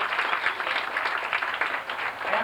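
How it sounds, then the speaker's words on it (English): A crowd at a school retirement party gives a round of applause, with brisk, continuous clapping that stays loud and even across the whole moment. "give him a round of applause for that"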